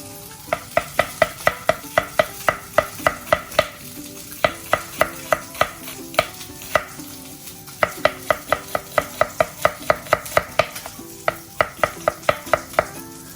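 Shallots being chopped with a knife on a cutting board for a salmon dish, heard as rapid, even, close-up knife strikes in bursts separated by brief pauses, with no talking.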